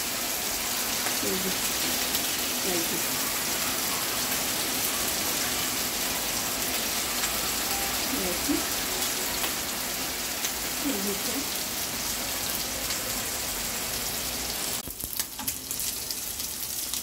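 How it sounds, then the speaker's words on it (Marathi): Steady, dense hiss of rain falling without a break, with a few faint voices and small clatters underneath. "छान पाऊस लागत आहे"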